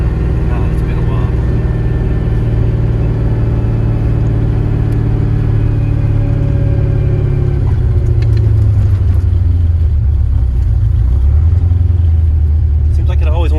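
A car engine runs hard at full throttle on a test drive, a loud close rumble that climbs and then drops in pitch as the driver eases off, with the engine faltering toward the end.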